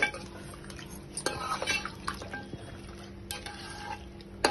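Chicken curry gravy with tomato and water gets stirred in a pot, a spoon clinking and scraping against the metal in a few irregular strokes, close, over a faint simmering background without talking.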